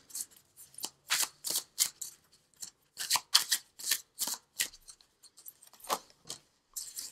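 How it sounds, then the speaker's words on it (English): Angel oracle cards shuffled by hand in a tarot reading, a run of crisp riffling and slapping bursts in uneven clusters, close and fairly quiet with no voices. "Let's pull an angel card just to bring it all together."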